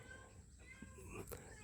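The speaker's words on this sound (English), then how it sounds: "That cat's whining because she's having babies." A pregnant cat whining on a farm in Rosario, Batangas: a short, faint meow-like cry rising briefly over background noise.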